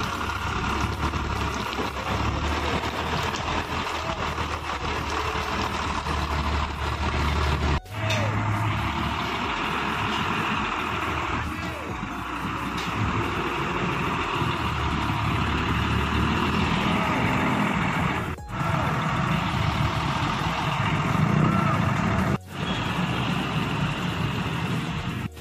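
A long-distance bus idles loudly in a depot before a trip to Makassar, a constant deep engine rumble with a few brief air-brake hisses; no reversing beeps stand out.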